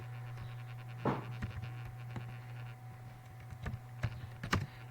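Sparse keystrokes on a computer keyboard, a handful of distinct close clicks spread irregularly across a quiet room hum, with no talking.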